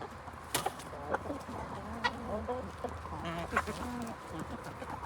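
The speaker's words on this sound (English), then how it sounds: "let's go visit the chickens" Farm chickens and other fowl cluck and call in short, repeated bursts close by, with several birds overlapping in a steady barnyard chorus and no talking.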